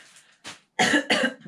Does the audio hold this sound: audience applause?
no